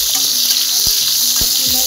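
Chopped tomato fries in a hot pan with a steady bright sizzle, while a spoon scrapes and stirs in a few distinct knocks over the continuous hiss.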